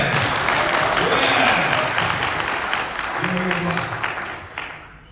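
An audience bursts into loud, dense applause with a few whistles mixed in, holding strong before gradually fading out near the end.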